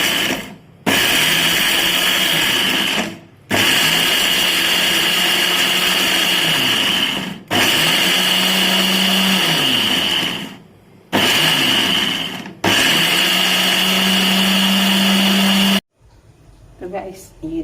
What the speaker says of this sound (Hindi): अब हम इसे ब्लेंडर करते हैं।